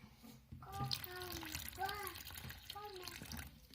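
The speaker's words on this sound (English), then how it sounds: "I'll just overfill the water dish and that should all come out" Water is poured into a tarantula's water dish until it overfills, a light trickling splash running under a person talking throughout.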